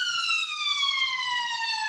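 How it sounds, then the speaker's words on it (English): An ambulance siren wails steadily as it drives past, its pitch sliding slowly downward, heard on its own without talk. "ambulance going past"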